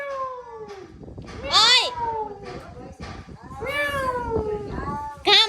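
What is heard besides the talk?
street cats meowing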